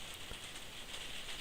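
Rain falling outside makes a faint, steady hiss with scattered light patter, continuous and even throughout with no talking.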